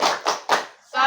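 A group of women in a village family-welfare session perform the short tepuk salut clapping cheer, three quick bursts of claps followed by a brief pause and a final clap or shout, close and fairly loud.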